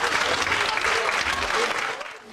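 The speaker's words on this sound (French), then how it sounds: "On peut applaudir les 2 cyclistes" An audience at a town-twinning gathering in Loyers bursts into lively, sustained clapping for two cyclists, filling the room before tapering off near the end.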